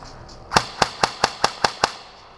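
Airsoft AKS-74U with a high-capacity magazine fires seven sharp, evenly spaced shots in a quick semi-rhythmic string, each a crisp snap over faint background hiss.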